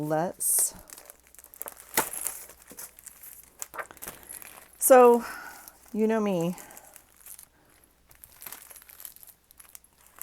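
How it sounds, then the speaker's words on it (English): Plastic wrap being crumpled and torn off at a crafting desk while making a spring junk journal: several bursts of crinkling and tearing, some close and sharp, with a person talking in between. "I'm going to get rid of this plastic wrap because I can't open it anymore"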